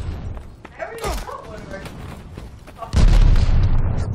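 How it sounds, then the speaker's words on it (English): A grenade goes off in the online shooter Call of Duty Vanguard: a sudden loud, close boom bursts in late, then rumbles on, following a stretch of quieter battle noise and faint voices. "Throwing grenade!"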